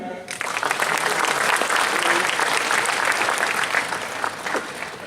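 Audience applause at a sales gathering, loud sustained clapping from a large room filling the whole clip, with faint voices under it.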